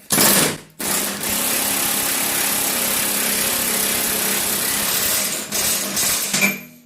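A power tool drives a socket onto a bolt on a Husqvarna YTA18542 mower deck, a loud, steady close-up whir running for several seconds after a brief first burst, then easing off at the end.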